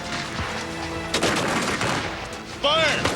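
Musket fire in a War of 1812 battle reenactment with the 44th Regiment, a loud ragged volley of close shots over battlefield noise, then a whistling sound near the end.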